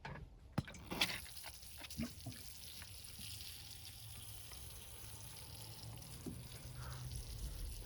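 Water poured onto a Ficus Benjamina bonsai during repotting and pruning, with a few sharp clinks at the start followed by a soft, steady trickle and faint splashing close by.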